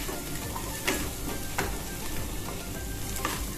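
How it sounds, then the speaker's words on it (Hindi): Onion and garlic fry in a pan with a constant close sizzle, a few soft clinks of stirring rising now and then over the hiss, and no talking. "ये हमारा प्याज और लहसुन फ्राई हो चुका है, भून चुका है।"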